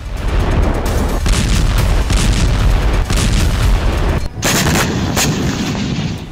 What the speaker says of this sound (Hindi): इजराइल ने लेबनान के मारूफ शहर में जबरदस्त बमबारी की।